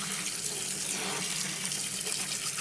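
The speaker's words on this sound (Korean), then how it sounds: "지금부터 방금 데쳐낸 거를 찬물로 샤워를 시킬게요" Cold tap water runs steadily over freshly blanched walnuts in a sink, a continuous close splashing hiss without interruption.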